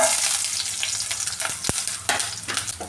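Garlic dropped into hot coconut oil with already popped mustard seeds, for a lentil thoran, fries in a loud, continuous close sizzle with light stirring scrapes.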